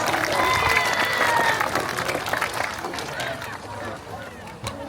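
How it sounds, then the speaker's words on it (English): Spectators at the sea lion show at Blackpool Zoo clap and murmur, a broad crowd applause with chatter and scattered voices that fades gradually over a few seconds. "Let's give them a massive round of applause."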